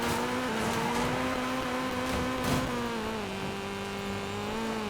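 A Honda Civic tuned to 900 horsepower in the racing game Need for Speed Payback holds a loud, steady engine roar with a high whine, rising slightly in pitch as it pulls, close and continuous.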